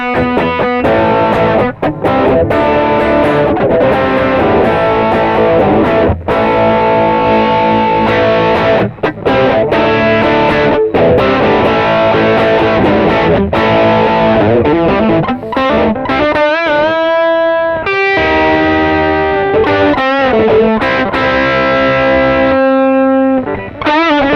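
Loud, heavily distorted Ibanez Jemini signature distortion pedal on electric guitar, playing continuous chords and riffs, thick and saturated, with no voices.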